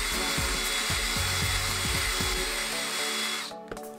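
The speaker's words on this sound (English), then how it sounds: "I started off with a wet sand at 1500 and now I'm moving to 2000." Wet sanding an epoxy resin woodworking piece with 2000 grit sandpaper, a run of rapid rhythmic scrubbing strokes over a steady background whine, fairly loud and close, ending in a few soft knocks.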